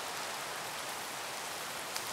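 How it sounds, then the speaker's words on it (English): Rain falling in the Minecraft video game, a soft, steady hiss of downpour at low volume, continuous and unbroken with no voices. "why is it raining?"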